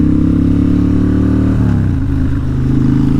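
A Harley-Davidson Fat Bob motorcycle engine drones loudly and steadily up close, its throbbing low rumble dropping in pitch about halfway through as the bike eases off, with no talking.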